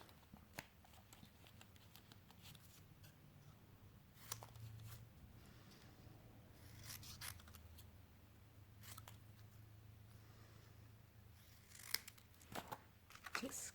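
Scissors cutting out a silver heat-embossed card, heard as faint, irregular snips and crisp paper sounds close by, with a low hum underneath.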